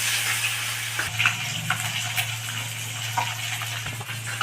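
Pershe fish fry in a pan with a dense, continuous sizzle and scattered crackles, close and steady, over a low electrical hum.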